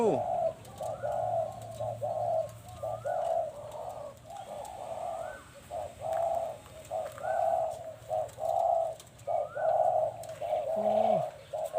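A dove coos repeatedly in a rhythmic series of soft, rolling calls, fairly close, with short pauses between phrases.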